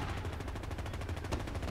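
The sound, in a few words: shotgun firing in video game Medal of Honor 2010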